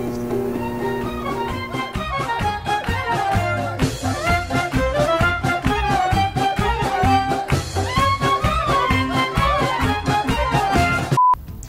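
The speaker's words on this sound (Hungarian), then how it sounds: "elég jó kis muzsika hallható" Upbeat synthesized music from a CS:GO level with a steady rhythmic beat and bouncy melody loops continuously, loud and clear, ending abruptly with a short tone.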